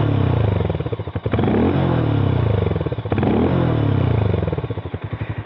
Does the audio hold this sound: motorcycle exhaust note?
yes